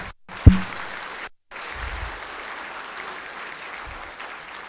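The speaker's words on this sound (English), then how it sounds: "I want to give them applause" An audience breaks into steady, broad applause that fills the space for several seconds, with a brief gap early on and a loud knock or bump near the start.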